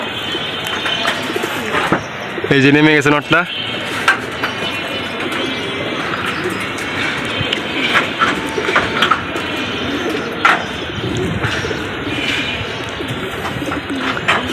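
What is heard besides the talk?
pigeons cooing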